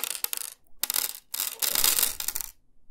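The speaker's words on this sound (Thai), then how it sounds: "โปรยหินลงเสียงบานหน้าต่างนี่เอง" Small decorative stones are sprinkled onto a hard surface in three short bursts of bright, rattling clicks and patters, close and crisp, with brief silent gaps between them.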